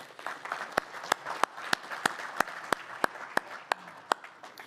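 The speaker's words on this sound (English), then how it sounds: "please join me in a round of applause for our regional sponsors" Audience at a regional industry meeting applauds for sponsors: soft, diffuse clapping spread through a room, with a few louder, sharper individual claps punctuating it at fairly regular intervals.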